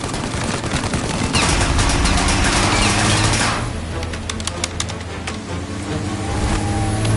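Gunfire aimed at a car windshield in Mafia: Definitive Edition, dense rapid bursts of shots over a roaring engine, loud and continuous throughout.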